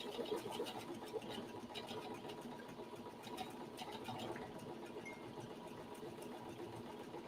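A quiet sewing machine stitches a zigzag seam across a shoe bag, humming steadily with a soft, rapid needle patter throughout and no talking.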